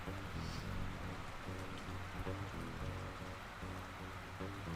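Rain in a survival video game patters steadily on surfaces with a faint trickle of running water, soft and continuous, with no voices over it.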